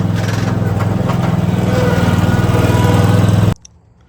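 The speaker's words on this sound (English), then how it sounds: "So I'm going to grab this mower off and get started." Lawn mower engine running steadily close by, a loud continuous buzzing drone with a slight pulsing rhythm, cutting off suddenly near the end.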